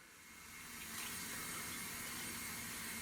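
Water runs steadily into a container in a bathroom, a soft hissing flow that swells slightly after the first second and continues evenly, faint and without talk.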